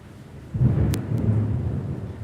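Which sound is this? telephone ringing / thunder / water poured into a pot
thunder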